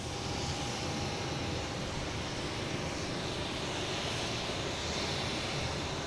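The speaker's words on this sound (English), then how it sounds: "And JetBlue coming in from Reagan, an A220" A JetBlue Airbus A220 jet airliner arriving at Boston Logan gives a steady, loud broadband roar that holds evenly throughout, with no talk.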